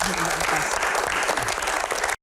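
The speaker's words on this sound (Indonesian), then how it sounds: "Tepuk tangan" Audience at a televised Q&A session with the Indonesian MPR chairman breaks into brief, full applause, a dense burst of many hands clapping that stops abruptly after about two seconds.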